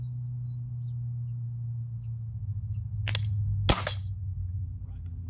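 A Diana 48 spring air rifle fires a long-range gold pellet in a single sharp crack, preceded by a softer click, over a steady low hum in a quiet setting.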